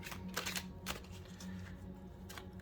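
Oracle cards from an 80-card deck being overhand-shuffled, a string of soft papery riffs and slaps in quick bursts, faint and close with no voices.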